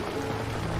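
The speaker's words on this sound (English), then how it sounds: "the rain intensified, the drops growing heavier and more frequent" Steady dense rain on a rural farm, a continuous close wash of patter with no gaps, heard alone.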